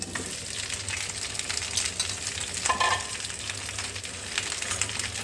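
Chopped tomatoes sizzle in a little oil in a frying pan for tomato bharta, a loud, close, continuous crackle with small spits and bursts and no voices.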